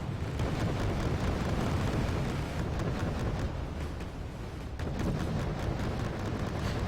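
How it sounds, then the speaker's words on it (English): Airstrike explosions in the Wargame Red Dragon strategy game form a dense, continuous rumbling roar with repeated heavy blasts merging together, loud and unbroken throughout. "Receiving some airstrike here."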